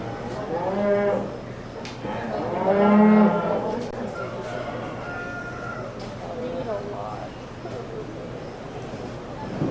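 Market heifers at a county fair beef show moo loudly and repeatedly with long drawn-out calls, the strongest around the middle, over a steady low hum and crowd murmur in the show barn.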